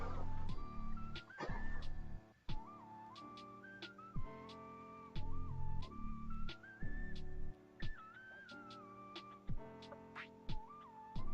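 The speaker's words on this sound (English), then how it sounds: "that whistling is a little annoying in the background there" A wavering whistled tune sits in the background over steady music, sliding between notes with short pauses.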